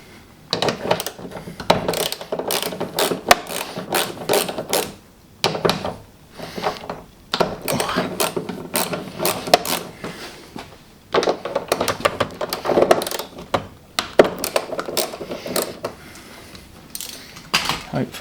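A 10mm socket ratchet works car bolts under the trim of a GT86 sedan, giving bursts of rapid clicking with short pauses between runs, close and fairly loud, with metal tool handling in between.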